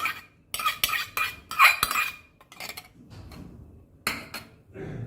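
Butter and oil being mixed into Christmas plum cake batter, a utensil clattering and scraping against a bowl in bursts of clinks with quieter stirring between, close and alone with no talk.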